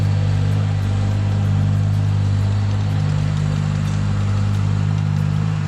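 A tractor engine runs steadily in a hay yard, a loud, even low-pitched drone with a strong hum and no break or change in pace.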